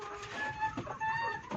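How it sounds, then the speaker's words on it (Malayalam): Native backyard hens of a laying flock cluck in short, close bursts, with soft rustling in between and no talking. "ഇത് നമ്മുടെ നാടൻ കോഴികളാണ് കേട്ടോ"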